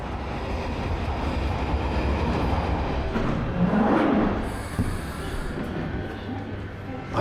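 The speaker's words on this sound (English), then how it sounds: "Just got to wait for the Northern Line train now" A London Underground Northern Line train at a station platform: a loud, steady rumble of the carriages with a rising whine and brief squeal near the middle, close by, with faint voices beneath.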